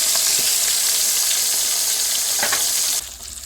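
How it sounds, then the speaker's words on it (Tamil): Jilebi fish frying in hot oil in a kadai, a steady loud sizzle with a few brief crackles and pops, cut off abruptly near the end to a quieter hiss. "இப்போ மீனை வறுத்து எடுத்துக்கலாம்."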